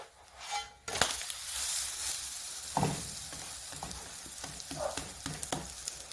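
Potato and egg breakfast frying in oil in a pan, a steady sizzle broken by a few sharp clatters as the food is flipped, close and moderately loud.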